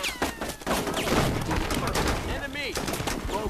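Rapid gunfire in the tactical squad game Full Spectrum Warrior: dense bursts of automatic rifle shots and scattered single cracks rattle continuously, loud and close, with shouted voices and radio chatter mixed underneath.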